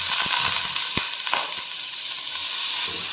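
Finely chopped onions sizzling in hot oil for an aloo baingan potato and eggplant curry, a loud continuous hiss and crackle broken by a few sharp clacks of a stirring spoon.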